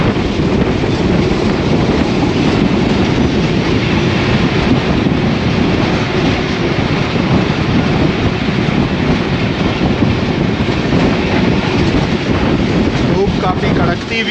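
The Ravi Express, hauled by a ZCU-20 diesel locomotive, rolls along the rails past green countryside after Shahdara Junction with a loud, steady rumble, muffled clatter and wind buffeting the microphone throughout.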